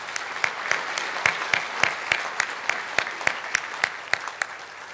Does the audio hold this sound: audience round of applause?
yes